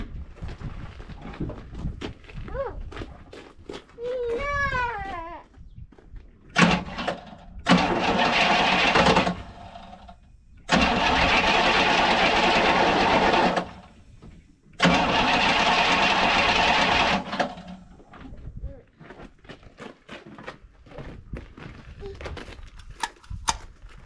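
A Pontiac V8 fitted with a rebuilt Holley carburetor cranks, then catches and revs in loud bursts before settling, with a couple of people talking around the repeated starts.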